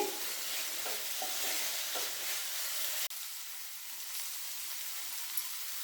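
Tender tamarind leaves fry in a pan with a soft, steady sizzling hiss and faint stirring scrapes, fairly quiet, with a brief break midway before the sizzle continues.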